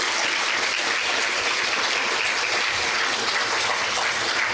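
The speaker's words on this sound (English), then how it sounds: "they need another round of applause because they've done a wonderful job" A church camp congregation at a Sabbath afternoon praise and worship service applauds its MCs, a dense, steady wash of many hands clapping at even loudness for several seconds with no talk.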